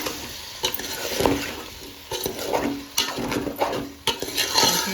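Tomatoes stirred into dal cooking in a pot with green chillies and onions, a steady sizzle under repeated scraping stir strokes and occasional soft clinks of a spoon against the pot, close and continuous.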